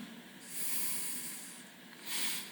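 Breath is pushed out through one nostril during a slow breathing exercise, two airy exhales close to the listener, the first long and the second shorter, in an otherwise quiet room.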